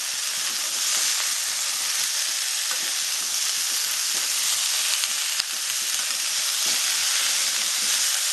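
Pumpkin pieces, freshly cut and washed, fry in a pan for a Bengali-style kumro chana, giving a steady, loud, broadband sizzle that holds throughout with no voices.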